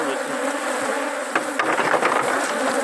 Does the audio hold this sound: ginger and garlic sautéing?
no